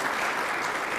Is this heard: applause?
yes